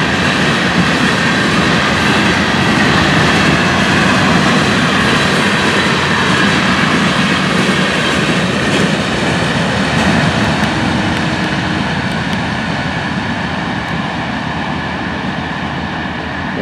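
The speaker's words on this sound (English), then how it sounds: "Now a string of hoppers taking it back to the yard." A freight train hauling a string of hoppers rumbles past on the FEC line at Fort Pierce. The sound is a loud, continuous roar with no letup and no voices.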